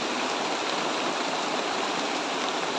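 Heavy rain falls outdoors in a dense, even roar that stays loud and constant throughout, with no voices.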